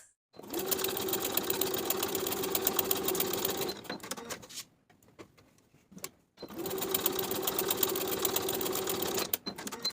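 A sewing machine bastes the side edges of linen shorts along the pocket material, stitching in two steady, close bursts with a short quiet gap between them.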